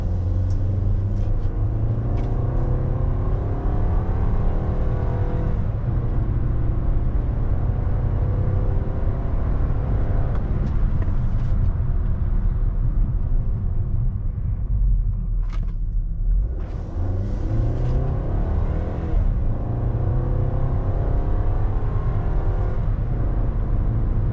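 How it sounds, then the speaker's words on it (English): A 2014 VW Tiguan R-Line with freshly replaced rear brake pads and rotors, heard from inside as it slows hard from about 60: a steady, loud low rumble of road and engine noise that shifts as speed drops, with a brief dip near the end. "And we're braking hard."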